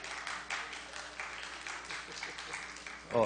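Steady applause fills a legislative chamber in Brazil during a deputy's speech, a sustained patter of many hands clapping at moderate distance, ending with a brief louder noise.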